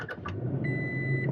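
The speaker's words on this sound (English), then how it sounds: "I'm doing a quick startup of the truck." A 2023 Toyota Tacoma TRD Off Road truck starting up, with a couple of short clicks and chimes, then a steady idle hum and a warning tone.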